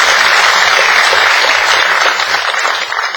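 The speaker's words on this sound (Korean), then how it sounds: "박수 한번 칠까요?" A book concert audience claps in welcome, a loud, dense burst of applause close by that thins slightly toward the end.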